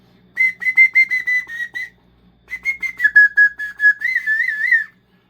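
Shrill whistle made from a shotgun shell, blown in a rapid burst of short toots, then after a pause a longer series ending in a warbling sustained tone, loud and close.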